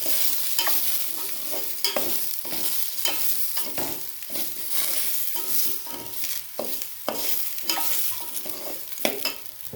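Vegetables and soybean chunks for khichuri frying in a pan, with a continuous sizzle broken by repeated sharp scrapes and clinks of a spoon stirring.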